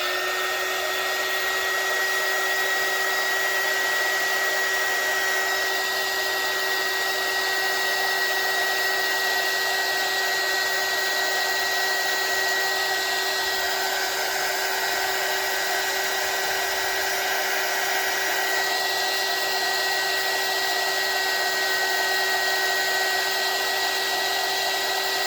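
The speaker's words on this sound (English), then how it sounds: "Next I'm going to need my heat gun, so excuse the noise." An electric heat gun blows steadily over UV resin for earrings, giving a loud, constant whirring hiss with a fixed tonal whine that runs unbroken throughout, close to the mic.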